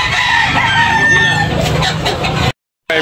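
Rooster crowing loudly and close at a chicken market, with clucking fowl around and a brief silent gap near the end.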